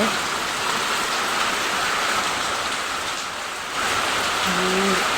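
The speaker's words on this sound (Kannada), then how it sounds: "ಸಖತ್ತು ಅಂದರೆ ಸಖತ್ತು ಗಾಳಿ ಮಳೆ ಬರ್ತಾ ಇದೆ" Heavy rain pours in a dense, steady roar, with gusting wind bending areca palms that briefly dips before surging back.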